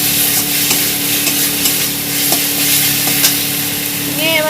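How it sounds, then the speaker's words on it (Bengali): Spices and coriander powder stirred in a hot frying pan, a loud steady sizzle with repeated scraping clicks of a spatula against the metal, continuous and close. "সব কিছু ভালো করে নাড়িয়ে নেব।"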